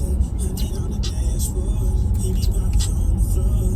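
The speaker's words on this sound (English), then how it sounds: "Look at traffic going home." Road traffic rolls past a Target parking area, a steady loud rumble of car and heavier vehicle engines with a few brighter passing swells throughout.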